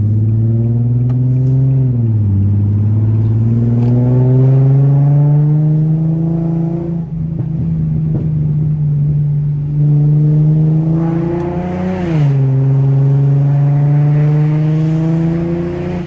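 An Infiniti G37 coupe with a new wide-pipe exhaust revs loudly, its deep raspy drone climbing and dipping through repeated throttle sweeps, close up and steady for the whole stretch.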